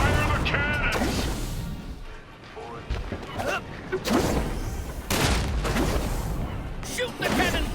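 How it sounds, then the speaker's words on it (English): Cannon and gunfire bursts in the video game Sunset Overdrive, with repeated booms and blasts in a busy battle mix, loud and layered under shouted game dialogue and other combat effects. "Fire the cannons!"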